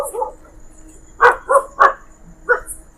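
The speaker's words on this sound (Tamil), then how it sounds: "ஐயோ நாயெல்லாம் இருக்குது கைஸ். சவுண்டு வெளிப்படுதுங்க." Dogs barking at night in a cemetery, several sharp barks in a quick irregular run after a softer yip, moderately near and standing alone.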